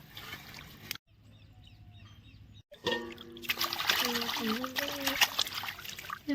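Water trickles and splashes intermittently as chicken is washed in clean water, with a brief quiet gap, while a person talks over the running water.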